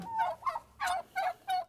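Turkey hens near nesting boxes give a rapid series of about five gobbling calls in short bursts with brief gaps, close and clear against a quiet background.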